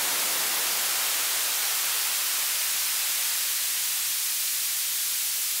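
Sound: white noise from a modular synth noise generator, high-pass filtered

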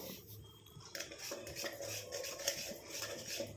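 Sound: stirring warm black cumin hair dye mixture in a pan

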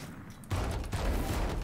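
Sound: gunfire in the video game Valorant

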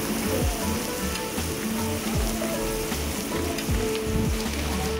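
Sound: rain falling

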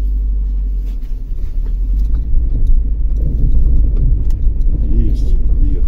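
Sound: car driving up an icy hill

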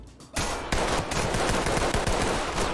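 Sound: gunfire in Ready Or Not video game

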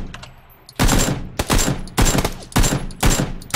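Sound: Kar98 rifle gunshots in the video game PUBG

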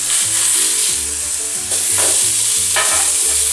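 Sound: turkey burgers sizzling in a pan as they are flipped

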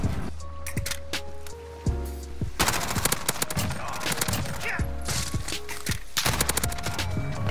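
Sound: gunfire in a first-person shooter video game

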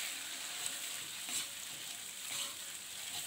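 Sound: stirring sauce and seasonings in a frying pan

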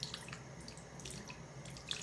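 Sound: tap running on low to rinse a retainer

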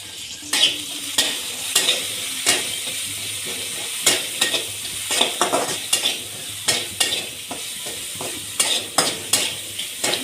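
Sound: cumin, garlic and green chili sizzling in hot oil

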